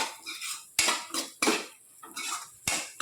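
Prawns and cashews stirred in a frying pan, with repeated metal spoon scrapes and clinks against the pan in an uneven rhythm, close and moderately loud, no talking.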